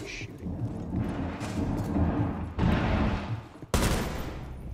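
Gunfire in the first-person shooter Rainbow Six Siege: sustained, dense bursts that roll on as a steady barrage, broken by brief gaps and sharp fresh volleys.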